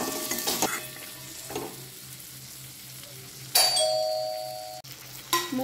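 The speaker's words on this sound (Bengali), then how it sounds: "ওগুলো দিয়ে ভালো করে একটু নেড়ে একটু জল দিয়ে দেবো।" Chicken curry masala, Bihari style, is stirred in a pan with water added, giving sizzling and frying hiss with scraping stirs and a few bright metallic clinks of utensil against pan.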